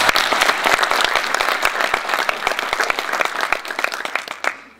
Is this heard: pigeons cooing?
no